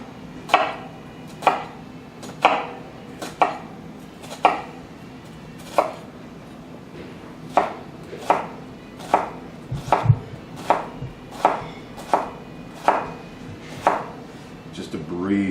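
A Kitchen Emperor Damascus steel chef knife chopping food on a board, a steady series of about fifteen crisp, evenly spaced thuds, close and distinct, quickening slightly midway.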